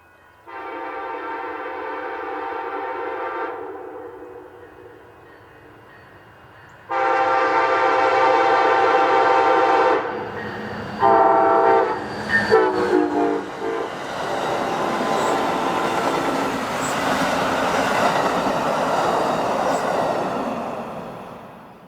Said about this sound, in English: Amtrak 319 made its daily appearance in Sherman with a horn show